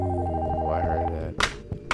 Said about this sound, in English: the front phone from upstairs is ringing